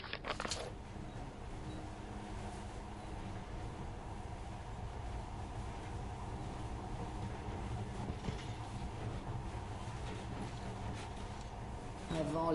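A monorail train runs in the video game Metro Last Light, a continuous low rumble and rolling hum with faint clanks, steady and fairly quiet throughout, with speech over it.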